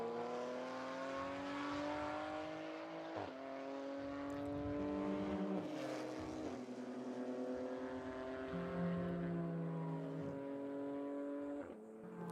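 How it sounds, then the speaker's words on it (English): A BMW GT race car in Fanatec GT Asia qualifying at the Motegi circuit, its engine note rising and falling through gear changes as it crests the back straight on an out lap, loud and continuous. "BMW still on its outlap, coming down over the crest on the back straight there."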